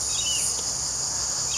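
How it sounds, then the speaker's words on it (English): Cicadas sing in midsummer, a steady, dense high-pitched buzz that holds unbroken throughout at moderate loudness, with no voices over it. "The insects, it's cicada season, so you can hear it in the background, hopefully."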